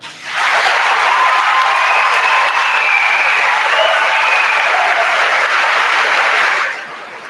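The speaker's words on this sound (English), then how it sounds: "please give a round of applause for our salutatorian, Miss Mary Kate Byrne" A graduation audience for the class of 2017 breaks into loud, sustained applause for the salutatorian, a dense roar of clapping and some cheering that starts abruptly and fades out after about six seconds.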